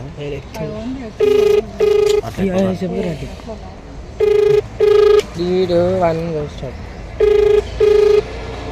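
An unanswered phone call rings through a handset in repeated paired ringback tones, loud and close, while someone talks over and between the rings.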